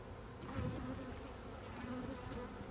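Faint, continuous honeybee buzzing around beehive frames, a low drone with a few passes drifting nearer, heard alone with no talking.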